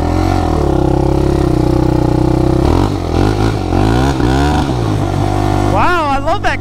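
A dirt bike engine revs up sharply several times close by, its pitch climbing and bouncing against a quick rev limiter, loud and steady throughout with some mechanical clatter.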